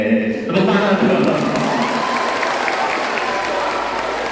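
Students at a church youth session clap together in a dense, loud round of applause that starts sharply and holds steady, with a few voices mixed in at the outset.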